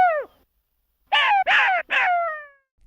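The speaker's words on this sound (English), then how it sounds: "Jackal." A jackal gives a short call, then a burst of three loud, harsh, wavering cries in quick succession, close and alone with no other sound around them.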